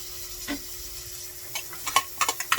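Onions and garlic sautéing in a pan for ginisang odong, a Filipino noodle dish with vegetables. A soft steady sizzle runs underneath a series of close scraping stirs that speed up toward the end.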